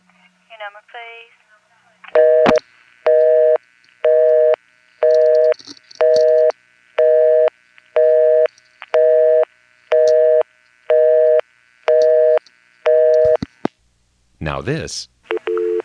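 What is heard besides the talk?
telephone exchange signal indicating an incoming call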